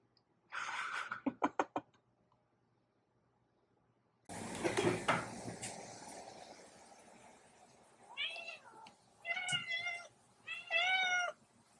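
Cats meow excitedly in a kitchen after a can of olives is opened, several loud, close meows arriving in bursts after a short clatter and some handling noises.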